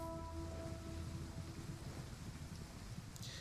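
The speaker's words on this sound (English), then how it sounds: "It's raining." Rain falls in a battle in Troy: A Total War Saga, a faint, steady hiss with low rumbling beneath and a few fading tonal hums from the game at the start.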